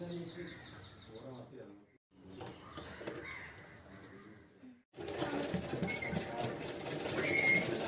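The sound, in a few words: sewing machine stitching a fabric mask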